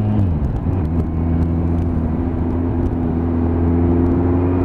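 A Nissan GT-R driven on a Sunday road run gives off a steady engine drone with strong low harmonics and a smooth rumble that holds nearly constant throughout, close and continuous with no talk.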